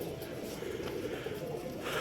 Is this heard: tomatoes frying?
no